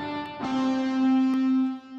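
A sustained synthesized tone drenched in strong reverb from the Cubasis mobile music app, holding a steady pitch with rich overtones and a long smeared tail, no voices present.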